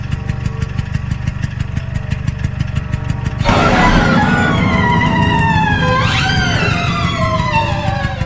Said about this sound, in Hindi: तभी सोन को स्कूटर की आवाज आती है